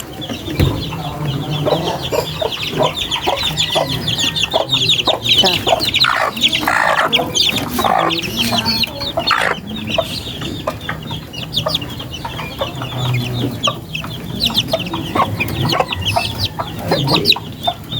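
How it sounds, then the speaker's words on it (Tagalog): Young chicks being raised by hand, their dense overlapping peeps and chirps filling the space close by, mixed with some fuller clucking from the flock, busy and unbroken with no talk over them. "Healthy yung ating sisiw."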